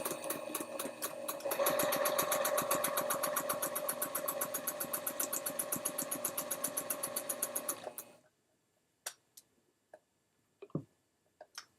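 A sewing machine runs steadily for about eight seconds, stitching pieced quilt block units with a fast, even mechanical chatter, then stops, leaving a few faint clicks and handling sounds.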